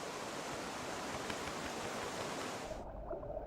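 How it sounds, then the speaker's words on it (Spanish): Strong river current in the Tatra Mountains, a steady broadband rush of fast water that fills the scene for nearly three seconds before cutting off abruptly into a deep low rumble. "La corriente del río es muy fuerte"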